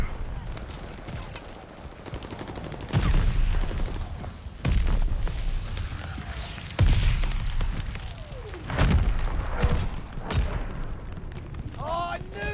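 Allied mortar fire in the Call of Duty Vanguard video game, heavy booming impacts landing every couple of seconds over a continuous crackle of gunfire and battle noise, loud and close.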